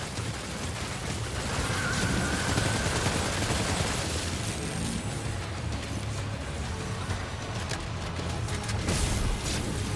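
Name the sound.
gunfire in video game Death Stranding 2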